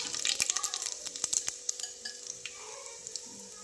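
Cumin and curry leaves crackling in hot oil in a pan, a steady close sizzle with scattered sharp pops and light stirring clicks, no voices.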